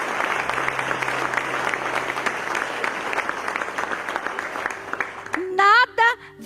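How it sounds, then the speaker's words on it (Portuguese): A church congregation applauds with sustained, dense clapping for about five seconds, which then fades as a voice begins speaking. "Pode aplaudir ao Senhor."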